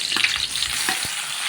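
Tomatoes hiss and crackle as they fry with onions in oil for a beef rib kinamatisan, a dense, close sizzle broken by a couple of spoon-scrape stirs, with no one speaking.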